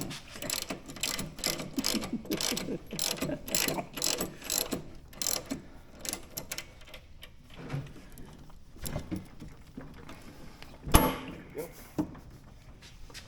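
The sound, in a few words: ratchet wrench turning bolts on Harley shocks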